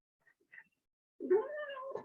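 A pet cat gives a few soft short chirps and then one longer, close, clear meow, indoors with no one talking.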